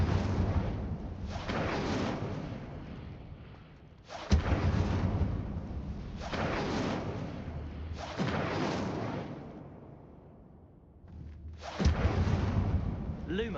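Fire spell bursts cast in Hogwarts Legacy, a series of loud whooshing, roaring blasts arriving in repeated waves about every two seconds, each swelling and fading, with a brief quieter gap before a final burst.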